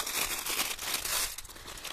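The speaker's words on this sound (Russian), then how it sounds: "Давайте откроем пакетик." Plastic parcel bag from an AliExpress delivery being opened, close continuous crinkling and rustling for about two seconds, fairly quiet, no talk.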